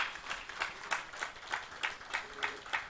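An audience at an Osun development association event applauds a guest. The clapping is faint and distant, pulsing in an even rhythm with no voices over it.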